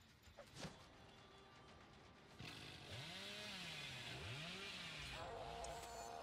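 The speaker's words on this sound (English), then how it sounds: "How do I use a chainsaw?" Chainsaw revving in the Dead by Daylight video game, a steady loud motor drone with rising and falling pitch sweeps as the throttle is worked, preceded by a few brief knocks.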